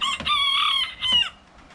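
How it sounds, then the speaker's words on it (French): A small, fluffy-feathered rooster among hens gives one short crow, clear and close, that breaks off partway and then starts again briefly before fading to quiet. "Alors ce coq il est poilu."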